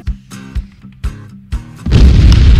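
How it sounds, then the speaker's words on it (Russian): Artillery explosions in the military video game Arma 3, a string of deep booming thuds at irregular intervals followed by a loud, sustained rumbling blast, heavy and close. "А вот это уже была артиллерия."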